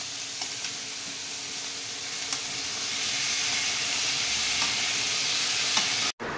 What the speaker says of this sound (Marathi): मस्त नॉर्मल लसण, हिरवी मिर्च, अद्रक टाकून दिली भाजी फोडणी आम्ही